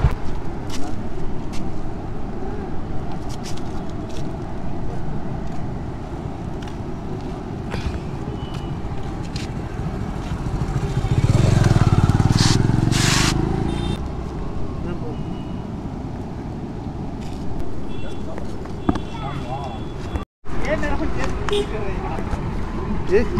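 A motorcycle riding near Viraganur Dam in Madurai gives a continuous engine drone with wind rush that swells midway and then eases as it slows, with voices talking over it.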